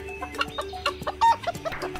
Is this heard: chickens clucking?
yes